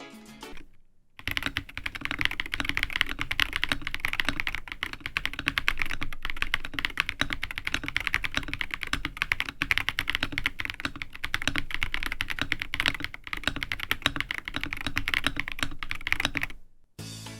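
Rapid, continuous typing on a Redragon Behemoth K724 Pro mechanical gaming keyboard, a dense stream of close clicky keystrokes lasting over fifteen seconds, with brief pauses at the start and end.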